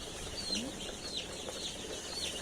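Soft, scattered clucks from seven-day-old Sonali chicks over a steady hiss of background noise, with faint chirps and rustling throughout.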